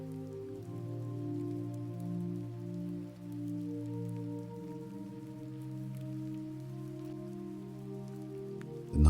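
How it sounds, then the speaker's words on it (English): Soft rain falls outside at night in a steady, gentle patter that holds evenly throughout, layered under sustained soft musical tones. "The rain outside has become a soft hum, steady and comforting"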